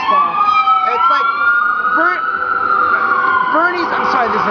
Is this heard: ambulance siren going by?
yes